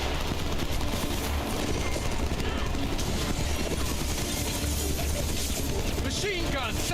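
Machine gun fire from a second-floor window during a shooting video game, a dense continuous crackle of gunfire with broadband bursts, steady and fairly loud throughout, with voices talking over it.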